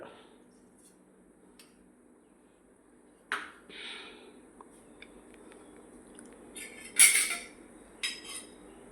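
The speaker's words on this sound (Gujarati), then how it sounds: "જો રહી ફૂટી, હવે આપણી રહી ફૂટી જાય એટલે મરચાં તળી લઈએ" Mustard seeds crackle in hot oil with a few sharp, scattered pops and short sizzles over a quiet background.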